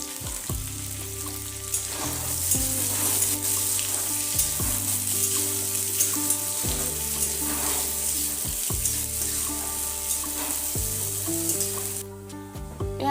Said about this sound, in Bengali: পেঁয়াজ ভাজা হয়ে গেছে